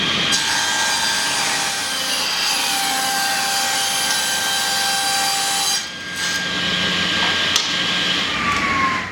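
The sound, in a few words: table saw test cuts using 3D printed featherboard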